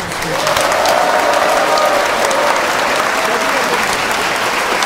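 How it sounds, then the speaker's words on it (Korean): A live talk show audience gives a speaker a sustained round of applause, with dense, steady clapping that fills the room from start to finish and some voices mixed in. "다시 한번 박수 부탁드리겠습니다"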